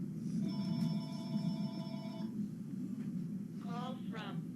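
A telephone rings indoors with a steady electronic bell tone lasting about two seconds over a low room hum, followed by a brief voice.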